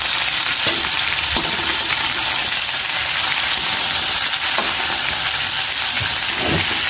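Food frying and being stirred in a cooking pot, with a steady loud sizzle throughout and a few scraping stirs of a spoon against the pot, no voices.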